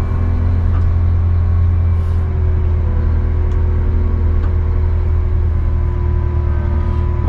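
A vehicle drives straight onto a low-loader trailer with a loud, steady engine drone and deep rumble, held close with only small changes in pitch and no speech.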